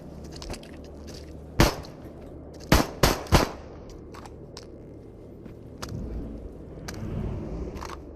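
Gunshots in the Into The Radius VR game ring out as a single sharp crack, then three quick shots in a row, close and loud. Softer handling clicks and rustling follow.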